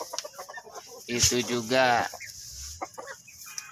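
Black Ayam Cemani hens on a small farm cluck and squawk in a loud, close burst mid-way, with softer scattered clucks before and after and someone speaking briefly.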